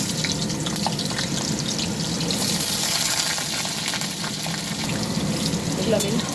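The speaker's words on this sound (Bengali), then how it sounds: "আমি এবার সরু সরু করে কেটে রাখা আলুগুলো ভেজে নেব" Thin-cut potatoes fry in hot mustard oil in a wok, giving a steady, close, continuous sizzle with faint crackles and no pauses throughout.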